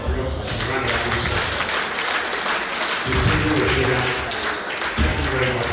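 Audience applause fills a Rotary District town hall meeting and banquet, a dense, steady clatter of many hands that swells again partway through, with a speaking voice heard over the clapping.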